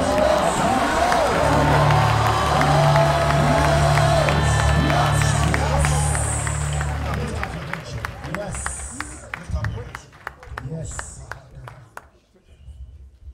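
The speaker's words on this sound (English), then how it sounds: "Clap your hands and shout yes." A large church congregation claps and shouts together, loud and sustained, then the cheering fades into scattered, sharp handclaps toward the end.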